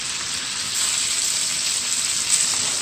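Butter sizzles in a frying pan with snapper fillets on lowered heat, a steady, bright, even crackle that holds at constant loudness with no voices.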